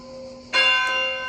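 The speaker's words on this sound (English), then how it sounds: "whoops, the bells" Church bell at a villa that was once an 1700s convent, a single loud ringing strike with a long tonal decay and a lighter second touch soon after.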